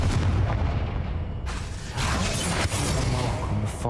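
Confringo fire spell blasts in Hogwarts Legacy, loud booming bursts with crackling noise, a sharp impact near the middle followed by another explosive whoosh, dense and close throughout.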